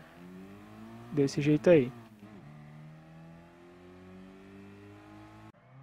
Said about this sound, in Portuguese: aprendendo a acelerar um carro fraco